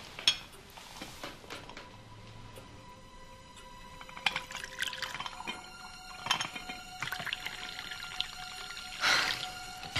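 Drink being poured at a table, soft liquid trickling with light clinks of glassware and dishes, quiet and close, with faint talk.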